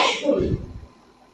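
A single sneeze from a person in a conversation, a sharp burst followed by a brief rough exhale, fairly close and alone.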